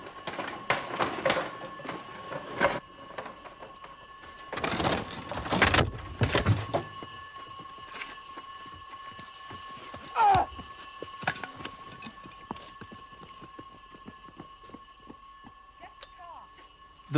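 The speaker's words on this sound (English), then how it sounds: "At this point, an audible alarm went off." An audible alarm, probably a building or car alarm at a possible break-in, rings in a sustained high tone through the whole stretch, with several louder bursts of noise and some movement underneath.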